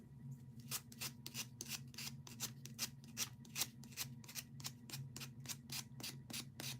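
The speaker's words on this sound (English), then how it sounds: "Let's sand this one down some." Hand sanding of a small wooden dough bowl filler piece, a steady series of quick, even rasping strokes in a regular rhythm, faint and close over a low background hum, no talk.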